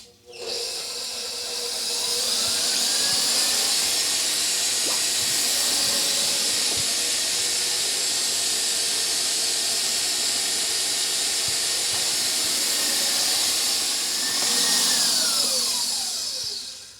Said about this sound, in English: into my stand mixer. And then we put our whisk on, and I'm going to whisk this up.